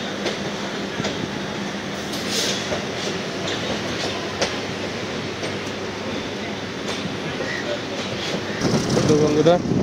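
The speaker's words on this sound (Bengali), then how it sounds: "ট্রেন এখন স্পিড নিয়ে নিয়েছে" A morning local train from Sealdah to Chakdaha runs at speed, giving a steady loud rumble with rhythmic clatter of the wheels on the rails and a few sharper clanks, growing louder near the end.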